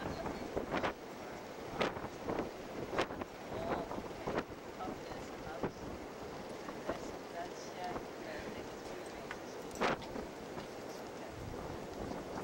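Steady wind buffeting the microphone with low rumbling gusts and scattered bumps, continuous throughout.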